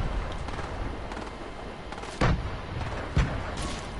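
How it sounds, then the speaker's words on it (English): Two thudding grenade blasts in a first-person shooter, each a short booming burst standing out from a steady background rumble, spaced about a second apart with no talk between them. "That's my grenade."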